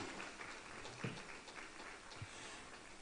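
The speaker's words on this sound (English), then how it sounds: "Let's put our hands together for her." Audience applause at a women's awards event, a continuous patter of many hands clapping together for the whole stretch, moderately loud and evenly sustained.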